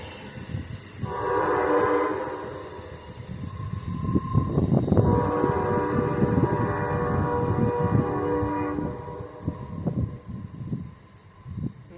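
A seven-car Amtrak passenger train rolls past close by. A loud rumble and clatter of wheels runs throughout, and the horn sounds in long blasts near the start and again midway.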